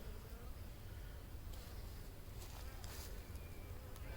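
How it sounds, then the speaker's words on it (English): Honey bees buzz at a hive feeder, a dense, steady drone of many insects heard close and fairly quietly throughout. "And as you can see, the bees are hungry."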